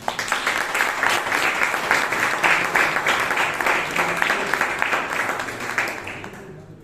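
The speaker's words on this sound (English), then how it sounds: "a thunderous round of applause, please" A Toastmasters club audience in Bangalore gives a sustained round of applause, dense clapping that holds steady for several seconds and then fades out near the end.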